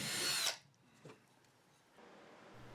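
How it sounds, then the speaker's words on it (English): A power drill drives a pilot hole for a cornhole board, the bit held vertical by a guide block: one short, sharp whir at the start, then near quiet with a faint knock and low room noise. "This block is simply to help me keep the drill bit as vertical as possible while I drill the pilot hole."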